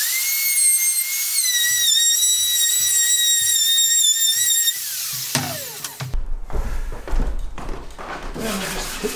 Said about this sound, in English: the router bit has a ball bearing on it which runs along the edge